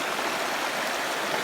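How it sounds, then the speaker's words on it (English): Rainwater rushes steadily through a ditch into a gully, a continuous close broadband splashing flow with no pauses. "my ditch feeds down here and meets up with this water"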